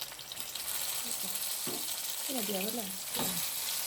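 Fish sizzles steadily in hot oil at an outdoor frying spot, a constant crackling hiss running throughout, with a faint voice briefly heard in the background.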